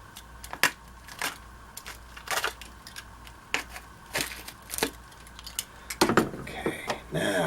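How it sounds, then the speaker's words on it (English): A utility blade slices open a sealed cardboard package during an unboxing, giving close, sharp scraping strokes at irregular intervals, with a longer, rougher rasp near the end. "I'm gonna break out the blade."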